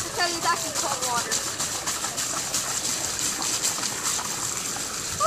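Cold water splashing and gushing during a dunking challenge, a continuous watery rush with rhythmic sloshing pulses, fairly close, while people talk and shriek over it.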